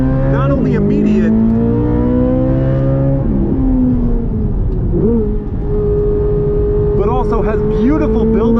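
A 2023 Chevy Corvette Z06 with its flat-plane V8 pulling hard, engine note climbing steadily through the revs with shifts and a rising wail, loud and close from inside the cabin, with a voice speaking over it.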